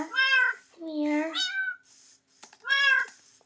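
Several meows from Minecraft cats come in quick succession, clear, close and loud, with a brief gap between the calls and no one speaking.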